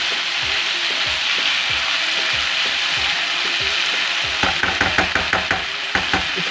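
Mixed vegetables sizzle steadily in a hot pan, oil crackling throughout, with a series of quick scraping stirs and taps of a spatula near the end.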